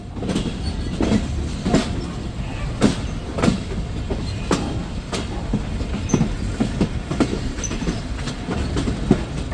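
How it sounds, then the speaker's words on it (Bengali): An IR Mail local train rolls into Amnura Junction, its wheels clacking over rail joints in a steady, repeated rhythm of sharp knocks above a constant low rumble, loud and close throughout. "ট্রেনটি এখন প্রবেশ করছে আমনোরা জংশনে"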